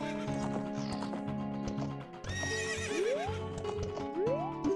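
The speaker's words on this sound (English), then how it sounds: "Please climb the horse" A horse in the Zelda: Ocarina of Time Randomizer video game lets out a loud whinny with clip-clop hoofbeats, set over the game's background music.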